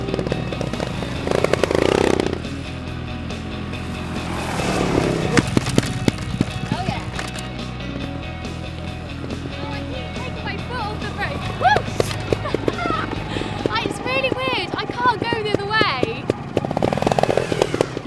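A trials motorcycle sliding its locked rear wheel across a grass field: revving engine bursts and skidding scrub rise and fall over the span, with someone talking at intervals.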